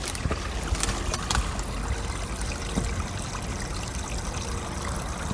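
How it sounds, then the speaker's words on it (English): Water flows beneath ice along an abandoned rail line. It makes a steady, close trickling and gurgling wash with a few brief splashy clicks, and no voices are heard. "You can hear the water flowing right here."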